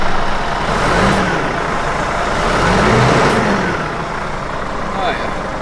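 A Scania S 580 truck engine is revved a couple of times, a loud, close, broadband diesel roar that swells and eases over several seconds.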